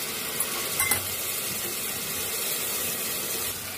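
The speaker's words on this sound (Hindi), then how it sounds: "मैं मसाला को अच्छी तरह से भून लेती हूँ" Masala spices sizzling steadily in a pan while khichdi with raw rice and mixed dal is being cooked, a soft, continuous frying hiss with a few faint clinks near the start.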